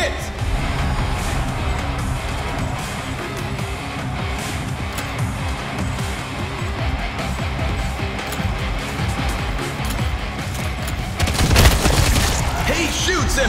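Gunfire and booming impacts from a video game shootout as a character is shot down, a dense continuous barrage with a louder burst near the end.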